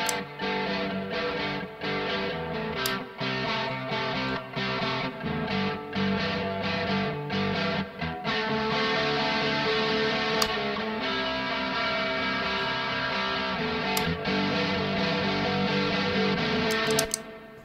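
Electric guitar through a modded Tube Screamer clone overdrive pedal in TS9 mode, playing sustained, gritty chords and notes, loud and continuous with no talking.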